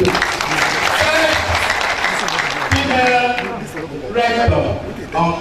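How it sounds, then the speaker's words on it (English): A crowd at a Federal Polytechnic Nekede inaugural lecture gives sustained applause for the polytechnic dean. The clapping fills the whole stretch, mixed with voices and cheering. "So we want another round of applause for you."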